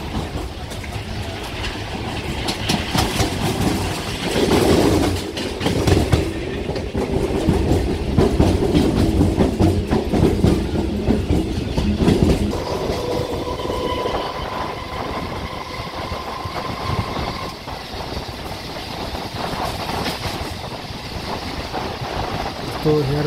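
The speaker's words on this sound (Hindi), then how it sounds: "तो हेयर कम्स हावड़ा आरम्भक लोकल जो सरावली तारकेश्वर के रास्ते आरम्भक से जाएगी" Howrah–Arambagh local train running past nearby, with a loud rumbling roar and rhythmic wheel clatter that swells and then eases, while someone speaks over it.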